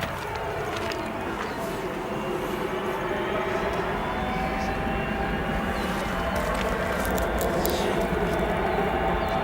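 An Icelandair jet in the 100-year Independence livery departs O'Hare Airport for Reykjavik, its engines giving a steady, loud, broadband roar that holds for the whole stretch.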